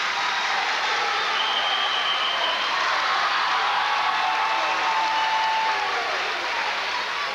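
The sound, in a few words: crowd cheering at wrestling state finals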